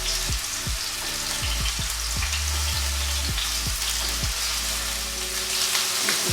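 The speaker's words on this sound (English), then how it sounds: "I'm just turning each bit of pork so that it goes nice and brown on each side." Pieces of pork fry and sizzle loudly in a pan, a dense close crackle with occasional low clunks as the meat is turned, and no talking.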